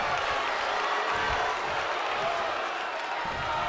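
An arena crowd in the WWE 2K23 wrestling game roars and applauds in a dense, continuous wash of cheering that holds steady at high level throughout.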